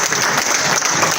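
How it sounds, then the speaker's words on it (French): An audience at the opening ceremony of the Dakar international literature festival claps loudly and densely, a close, continuous burst of applause from many hands. "Voilà encore des applaudissements."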